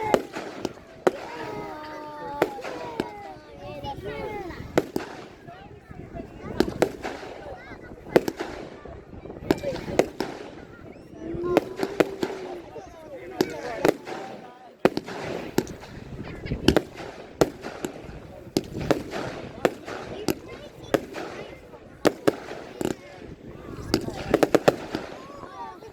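Fireworks display at Oakington, with repeated sharp bangs and crackling bursts going off irregularly throughout, some loud and close, while people chatter and exclaim nearby.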